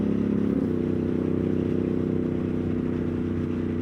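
A 2024 Triumph Street Triple engine while riding, a steady low drone that holds level throughout, loud and close with a slight shift in tone early on, no talk.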